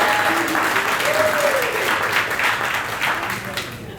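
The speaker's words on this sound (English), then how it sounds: "so we can give you a round of applause" A convention audience gives a steady round of applause at a political campaign launch event, loud and sustained throughout with a faint voice audible beneath.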